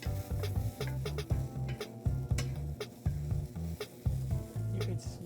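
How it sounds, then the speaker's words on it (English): Steady sizzling and crackling of food frying in a pan, with periodic clinks and scrapes of stirring and a low rhythmic background hum. "get it nice and sizzling hot."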